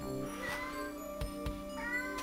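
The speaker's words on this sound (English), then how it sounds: "now everyone's gonna hear the cat." A cat meows several times at close range, with short distinct calls spread across a few seconds over a steady tonal background of game music.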